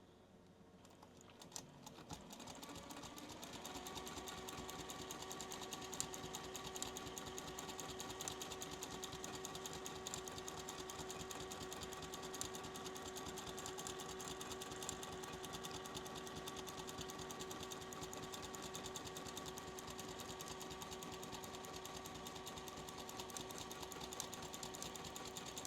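A sewing machine stitching fabric for free motion quilting with a paper template, a fast steady mechanical whir and needle chatter running continuously after a short start, close and even in level.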